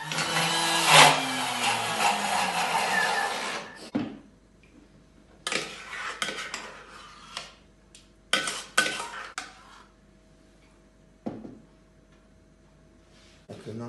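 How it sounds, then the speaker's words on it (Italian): A household blender whirs loudly for several seconds as it purées frozen orange with sugar and ginger, then stops and gives way to scattered clatter of utensils and containers. "quindi arancia, zucchero, zenzero, che lo andiamo a frullare bene nel nostro frullatore"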